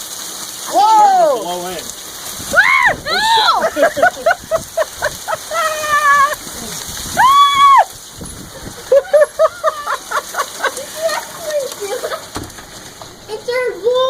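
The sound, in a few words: hailstorm, hail falling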